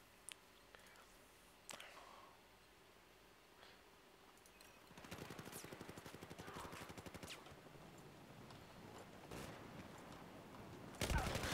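Gunfire in the game Battlefield 4: a few scattered single shots, then a sustained stretch of rapid automatic fire in the middle and more bursts at the end, moderately loud against a low background.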